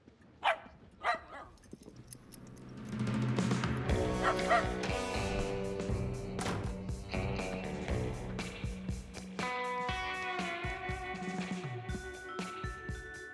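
A dog barks a couple of sharp times, then yips and whimpers over steady music in a comedy film scene.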